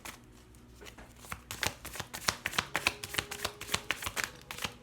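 Tarot cards shuffled and drawn by hand, a run of crisp, close papery riffles and snaps in a quick uneven rhythm, heard alone without talk.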